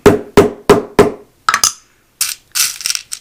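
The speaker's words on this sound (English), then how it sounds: "position that top flat portion on top and give it a little whack" A hammer strikes a metal snap being set into a faux leather wallet: four evenly spaced sharp whacks, then a looser cluster of lighter taps and knocks, close and loud.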